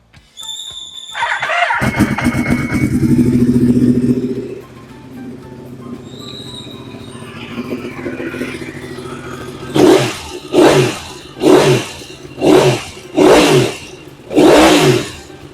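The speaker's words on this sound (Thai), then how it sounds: "เดี๋ยวมาฟังเสียงเครื่องยนต์กันนิดนึงนะครับ" A 2017 Yamaha YZF-R1 sport motorcycle engine idles with a loud, close roar, settles to a steady idle, then rips through six sharp throttle blips in quick succession near the end.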